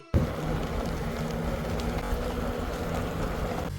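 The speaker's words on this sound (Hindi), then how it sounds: "बहुत भयंकर हवा चल रही है भाई, बाइक भी ना इधर उधर हो रही है" Strong gusting wind roaring past a motorbike rider's helmet on a ride home in light drizzle, a loud steady rumble that starts abruptly and runs unbroken throughout, with no speech.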